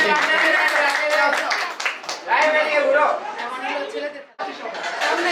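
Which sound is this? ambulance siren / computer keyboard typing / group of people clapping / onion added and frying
group of people clapping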